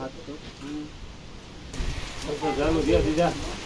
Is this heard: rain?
yes